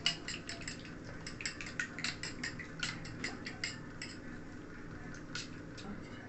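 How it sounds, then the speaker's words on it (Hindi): Two eggs being beaten with a spoon make a quick, even ticking of metal against a bowl, a steady run of light clicks at moderate distance with no talk. "इनको अच्छी तरीके से फेंट लेंगे।"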